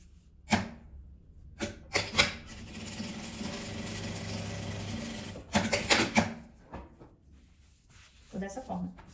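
A sewing machine stitches a seam through patchwork fabric in bursts, a steady mechanical whir of a few seconds between clicks and knocks of handling the cloth, with someone speaking at times.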